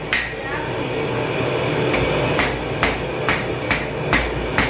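A hammer strikes a forged knife tip over the edge of an anvil in a steady series of sharp metallic blows, roughly two per second, against a constant roar from the forge.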